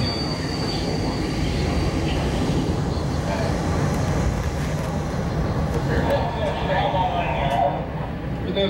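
A train sits at a station with a loud, steady rumble and hum of machinery, faint metallic squeals above it and no speech.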